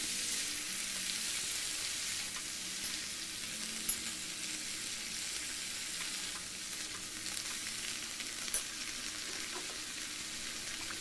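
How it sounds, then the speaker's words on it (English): Boiled peas frying in a pan for a vegetable curry, a steady bright sizzle with occasional soft stirring clicks, continuous and fairly close, no talking. "add boiled mutter, mix it well, fry it for 2 minutes"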